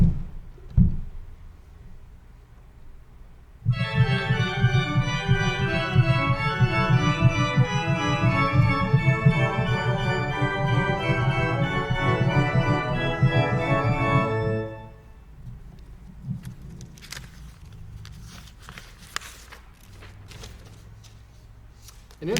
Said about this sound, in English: That's barely underway when it gets interrupted by another toccata section, which is quite extensive.